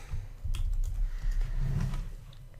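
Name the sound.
typing on a computer keyboard into Excel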